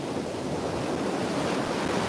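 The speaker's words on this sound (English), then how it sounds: "But the waves are huge." Large ocean waves crash and surge on a beach at Pine Knoll Shores during a hurricane watch, a dense continuous roar mixed with wind buffeting the microphone, with no voices.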